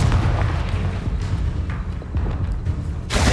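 Confringo blasting spell explosions in the Hogwarts Legacy video game during combat: a dense, loud stretch of booms and thuds, with a fresh burst arriving near the end.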